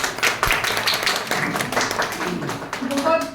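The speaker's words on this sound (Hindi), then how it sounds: "जोरदार तालियां हो गए।" Clapping from an audience at a Diwali event rattles on in irregular bursts of hands, moderately loud and close, mixed with people talking over it throughout.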